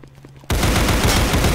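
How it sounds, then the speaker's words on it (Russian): Sustained AK rifle fire in the Roblox shooter Counter Blox, a loud continuous burst of rapid automatic shots that starts abruptly after a brief quiet moment and keeps going to the end. "Смотри, смотри, он стреляет через стену."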